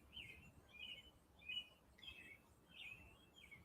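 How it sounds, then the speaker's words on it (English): Faint, repeated bird chirps outdoors, short high tweets recurring every half second or so against a quiet background. "you can hear birds because there's birds out here"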